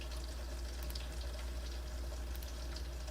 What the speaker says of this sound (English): You can just hear fucking water going down.